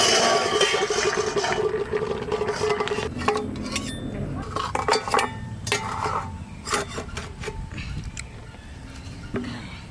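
A metal lid scrapes and clatters onto a cooking pot of freshly caught pond fish, with rubbing, rasping and utensil clinks up close, loud at first then thinning into sparser knocks.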